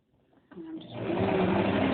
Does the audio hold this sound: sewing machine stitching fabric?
yes